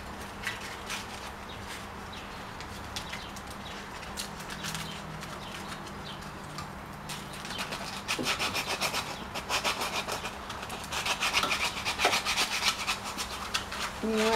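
Sandpaper of 150 grit, rolled up, rubs inside the entrance hole of a wooden chickadee or wren birdhouse, a close, steady rasping scrape that grows louder and more vigorous in the second half.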